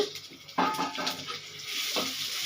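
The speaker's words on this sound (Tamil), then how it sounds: "காஞ்ச மிளகா வறுபட்டுருச்சு" Dried red chillies roast in a pan, giving a soft, steady sizzle broken by a few sharp scraping stirs of a utensil.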